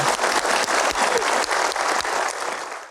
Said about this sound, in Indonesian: Kita berikan aplaus untuk Pak Doni